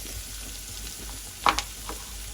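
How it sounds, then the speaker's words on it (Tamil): Chillies, spices and cumin sautéing in a hot pan, a continuous low sizzle broken by a couple of sharp clattering stirs of a utensil against the pan, close and moderately quiet. "எல்லாம் போட்டு நல்லா வதக்கம் வதக்கிடலாம் இதோட வந்தாங்க சீரகம் போடுவோம்"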